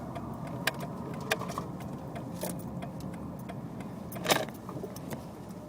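Inside a moving car, a steady low road and engine rumble runs throughout, with light rattling clicks like jangling keys and a brief louder knock near the end.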